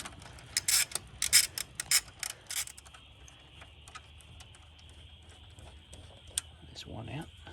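A ratchet wrench clicks in several short, close bursts while loosening bolts on a Ford Barra engine in a BF XR6, followed by quieter handling noises and faint background hum.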